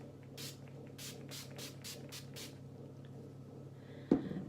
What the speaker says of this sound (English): It's Urban Decay Chill Makeup Setting Spray, and you just want to go in across.